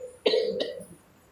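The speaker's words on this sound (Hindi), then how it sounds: "खांसी किसको आ रही है?" A single short, sharp cough close by, followed by a quieter throat sound, over faint background hiss.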